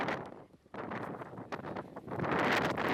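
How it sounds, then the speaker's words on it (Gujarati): Strong wind from a dust storm sweeps an open rally ground in Sabarkantha, Gujarat. Gusts roar and buffet the microphone without letup and swell louder toward the end. No one speaks. "જ્યાં ધૂળની ડમરીઓ ઉડી રહી છે અને જોરદાર પવન છે"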